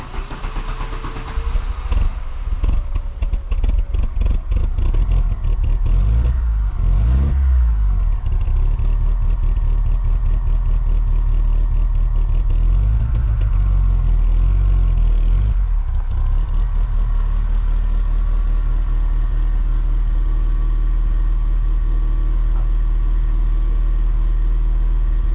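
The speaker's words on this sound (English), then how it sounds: "I'm gonna go ahead and pull the car forward," A Volkswagen Corrado engine runs steadily and close by as the car pulls forward, with an early clattering start followed by a continuous loud idle-like drone and some revving.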